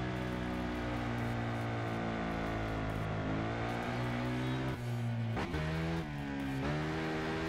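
Engine of a KTM 1190 RC8R superbike in the racing game Ride, a loud continuous high-pitched roar with rapid gear changes and rev drops near the end.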